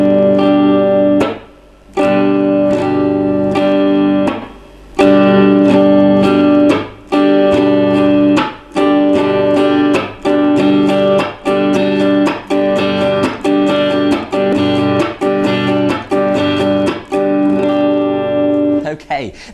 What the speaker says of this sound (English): we're going to go down,